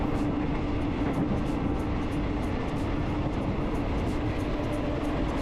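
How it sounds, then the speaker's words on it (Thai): Thai passenger train rolling toward Nong Bua junction station, a steady broadband rumble of wheels and carriage noise heard from on board, continuous and fairly loud with no talk. "อีกสักครู่หนึ่งขบรถก็จะเข้าสู่สถานีรถไฟชุมทางหนองบัวนะครับ"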